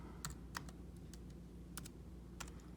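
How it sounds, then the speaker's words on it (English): Typing on a computer keyboard: a handful of quick, crisp key clicks in small clusters over a faint, steady background hum, quiet and close. "Let me type in glasses."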